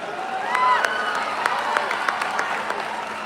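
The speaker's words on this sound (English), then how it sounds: "I request the gathering to a big round of applause to Sonia Madam" Applause from the gathering after a speech at an AI-themed event, a steady wash of many hands clapping at moderate volume, with scattered louder claps and faint voices mixed in.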